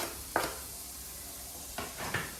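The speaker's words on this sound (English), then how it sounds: "Now we're gonna throw the onions and garlic in. In the same pan that we use for the beef." Steady close sizzle of onions and garlic frying in the same pan just used for beef, with a few brief stirring scrapes breaking through the constant crackle.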